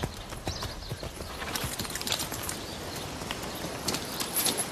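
Horse hooves clip-clopping steadily and close, a continuous rhythmic clatter over busy outdoor background noise, with a faint whinny.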